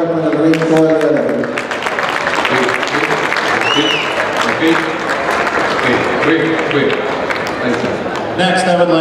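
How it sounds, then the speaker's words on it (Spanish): Audience applause at a Holstein cow show in Mexico, steady dense clapping filling the arena with crowd noise and talk running underneath throughout. "Y quiero que les dé un aplauso para Hector, por favor"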